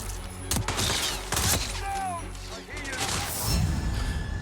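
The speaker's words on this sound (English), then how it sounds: "That was a gunshot." Gunfire in the video game Hitman 3: several sharp loud bangs within a few seconds over game ambience and sound effects, with no talk during the shots.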